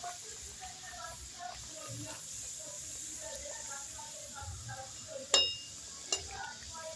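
Puri dropped into hot oil begins to sizzle softly for dal-stuffed fried bread, with a low steady hiss, small bubbling crackles and two sharp clinks near the end, close and fairly quiet.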